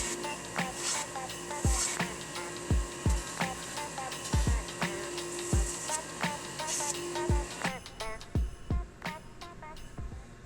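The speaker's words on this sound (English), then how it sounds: "Take that to the sander now." A sander works on a wooden crankbait lure in a workshop, close and moderately loud, with a steady whir broken by repeated short knocks and scrapes as the piece is pressed and moved.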